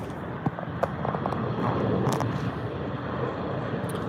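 A Boeing 737 rolls in to park at the West Terminal at LAX, its jet engines giving a continuous broad roar over the airport's ambient noise, with a few faint clicks and knocks.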